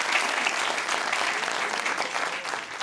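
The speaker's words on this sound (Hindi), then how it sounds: "तालियां होनी चाहिए भी, बहुत अच्छा।" A studio audience at an Eid special show gives steady, dense applause, moderately loud and even throughout, with no talk.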